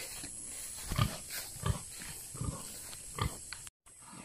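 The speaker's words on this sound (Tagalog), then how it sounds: "Pakante ng baboy, binibenta ko na to." A pig grunts in a rural Philippine pen, giving a run of low, close snorts and oinks at roughly regular intervals with a brief break near the end.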